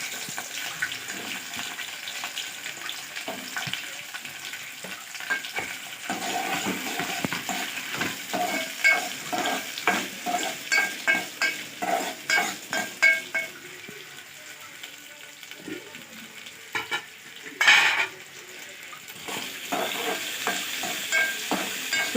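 Green chillies and chopped onions frying in oil and ghee for upma, a continuous close sizzle broken by repeated rhythmic spatula strokes and scrapes against the pan, with no talk.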